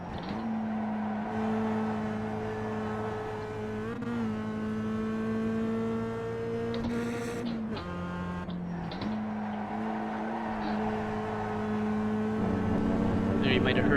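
Race car engine in the iRacing sim driven with an H-pattern shifter at Lime Rock, a steady droning note rising and dropping through several gear changes with mechanical shift clunks, a voice talking over it.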